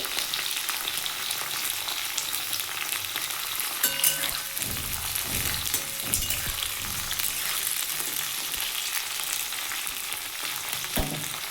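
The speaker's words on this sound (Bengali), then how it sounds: "আমার এই ভেন্ডি ভাজাটা হয়ে গেছে" Okra (bhindi) fries in oil with a continuous dense crackling sizzle, close and even, with a few soft clatters of a utensil partway through and no voices.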